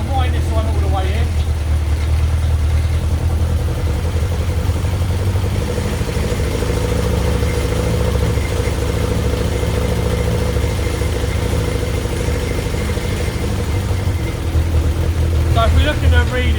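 Carburettor engine running on a test stand or slave engine, a steady mid-pitched idle with slight revving throughout, close and loud, with someone talking over it.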